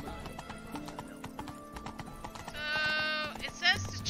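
Horse hooves clip-clop steadily as the horse Roach is ridden in the Witcher 3 video game, with a brief whinny and sheep-like bleats, all under ongoing game speech and voices.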